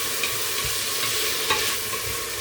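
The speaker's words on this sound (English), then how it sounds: "So start frying that off." Loud, close sizzle of vegetables frying in a hot pan, a dense continuous hiss with a few sharper pops and stirring scrapes.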